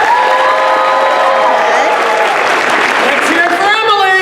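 An indoor audience at a science communication event applauds and cheers for a winning team, dense clapping mixed with whoops and shouts, with a voice talking over the crowd.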